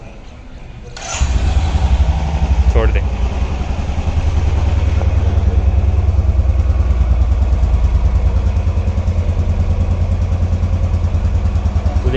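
A Royal Enfield Bullet 350 ES motorcycle engine starts abruptly, then settles into a loud, steady idle with a thumping beat that continues throughout; a brief voice is heard once.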